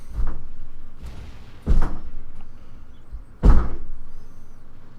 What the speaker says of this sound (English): What you're hearing there is my wife trying to slam the front door